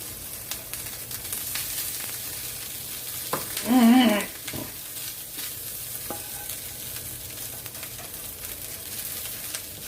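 Steady sizzling of corned beef hash in a hot frying pan with scraping and clinking of a utensil as it is stirred, including a brief louder burst in the middle.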